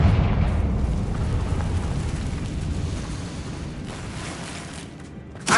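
The Confringo explosive spell in Hogwarts Legacy lets off a loud, close blast whose heavy rumbling boom fades over several seconds, ending in a short burst.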